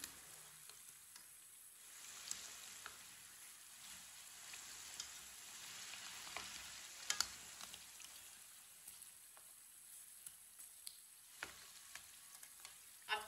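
Samosas frying in oil on low heat, a steady soft sizzle with crackling spits and small pops scattered throughout, fairly quiet and alone without voices.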